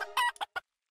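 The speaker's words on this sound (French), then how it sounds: "Oh, une poule!" A chicken in the video game Palworld gives a short burst of clucking, a loud squawk followed by two brief clucks, close and clear with no talk over it.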